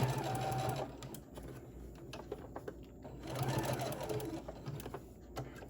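Domestic sewing machine stitching a pleat into a fun-print fabric face mask, a steady close whirring hum in two bursts with a brief slowdown between, no talking.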